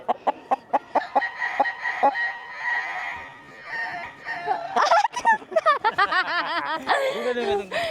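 Gamefowl chickens at a breeding farm cluck in short repeated bursts, then several roosters crow loudly nearby in overlapping calls, with people's voices mixed in.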